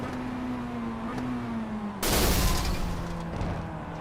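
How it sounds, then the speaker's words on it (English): A simulated Mazda MX-5 race car's engine lets go on a downshift at Monza in iRacing: a steady engine drone, then at about two seconds a sudden loud burst into a harsh, roaring blast that carries on to the end. "Melvin Tyne's engine goes pop"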